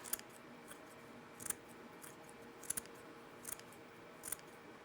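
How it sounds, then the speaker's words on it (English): Scissors snip through sisal rope in a quiet room, giving about five short, crisp cuts spaced roughly a second apart over a faint background hiss. "I just run the scissors in like so and just cut it"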